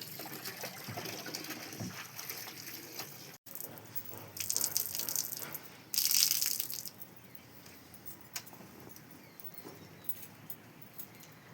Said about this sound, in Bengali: জামা কাপড় ধুচ্ছি, ছাদে এসে জামা কাপড়গুলো ছিল সব ধুয়ে দিচ্ছি।